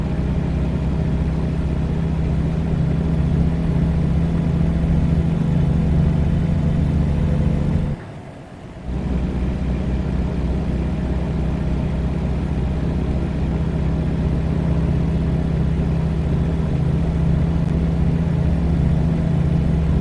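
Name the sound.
big truck engine in American Truck Simulator video game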